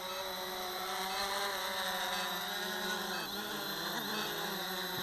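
Cheerson CX-20 quadcopter drone coming in to land outdoors, its rotors giving a steady, moderately faint buzzing whine with a slight dip in pitch as it descends.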